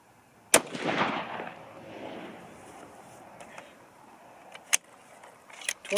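A single sharp rifle shot from a 6.5 Creedmoor Winchester 760 cracks loudly outdoors and trails off in a rolling echo, followed later by a second fainter crack and some light mechanical clicks.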